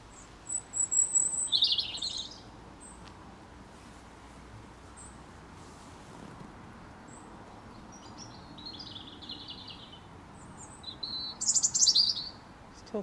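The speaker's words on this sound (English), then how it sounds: "little robin, it's just there, look." A small robin sings in bursts of high twittering phrases, nearby and outdoors, with a quieter gap before another bird answers near the end; faint ambient background throughout.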